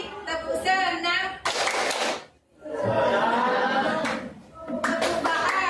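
Hand claps for the Indonesian clapping game 'tepuk senang' at a group meeting, a short burst of sharp claps set among a leader's chanted words.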